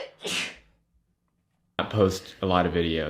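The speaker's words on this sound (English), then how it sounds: "Oh, I'm gonna sneeze already." A single sharp sneeze bursts out near the start, followed by silence and then a person talking.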